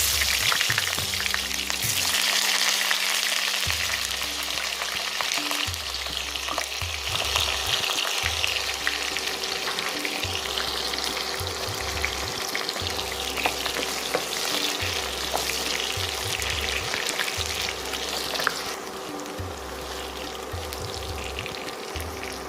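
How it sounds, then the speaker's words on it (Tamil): Brinjal pieces sizzle and crackle continuously in hot oil, a dense close frying hiss with periodic soft stirring scrapes punctuating it, no voices over the sound. "அது கத்திரிக்காய் நல்லா பொரிஞ்சிருச்சு"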